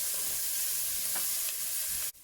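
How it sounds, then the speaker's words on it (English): Onion frying in heated butter for a keto cauliflower chorizo soup, a steady broad sizzle that carries on without a break before it drops off abruptly near the end. "I've got some butter heating up in there, so I'll add the onion, get that softened."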